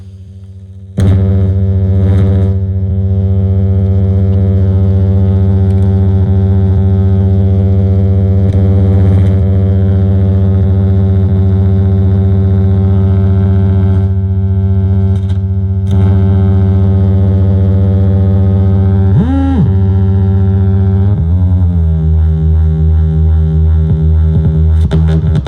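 A modular synth tone fed through a liquid glitcher effect module, loud sustained drone with rich harmonics after a sudden start, broken by a few brief warbling glitches and pitch dips near the end.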